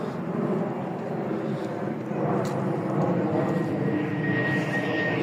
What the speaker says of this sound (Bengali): যেভাবে ঘন ঘন প্লেন যাচ্ছে